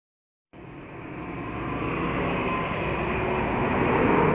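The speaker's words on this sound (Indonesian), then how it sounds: "suara mobil dan motor lalu lalang terus guys, tidak putus-putus" Steady roar of cars and motorbikes streaming past close by on a roadside, a continuous wash of traffic noise that starts abruptly and slowly swells louder with no breaks.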